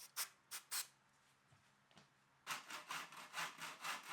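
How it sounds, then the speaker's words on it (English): Handsaw strokes cutting wood mitres in a mitre box: a few short rasping strokes, a pause, then a steady run of rhythmic back-and-forth sawing, close and fairly quiet. "The mitres were cut with this mitre box and a handsaw"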